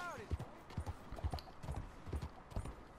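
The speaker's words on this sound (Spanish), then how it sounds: "Vamos a ver si viene el caballo." Horse hooves clip-clop in a steady trotting rhythm in the Red Dead Redemption 2 video game, fairly close and moderately loud, with a brief whinny near the start.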